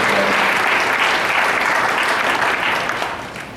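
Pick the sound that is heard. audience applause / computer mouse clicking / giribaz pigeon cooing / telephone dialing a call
audience applause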